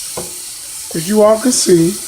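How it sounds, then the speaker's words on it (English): Beef stew meat searing and browning in a pan gives a soft, steady sizzle that stays faint beneath someone talking close by. "I'm searing, braising or searing, or browning, whatever you want to call it, the beef stew meat"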